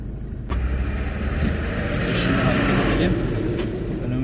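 A Fiat Ducato van carrying a one-ton load drives on smooth asphalt, its mid-pitched engine droning steadily with road and wind noise close by, no talk over it.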